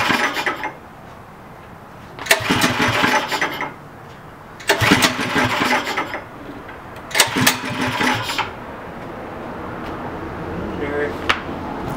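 Homemade go-kart engine with a Mikuni carburetor, run without choke, cranking and firing in four loud bursts of rough revving a couple of seconds apart, with quieter idle gaps between.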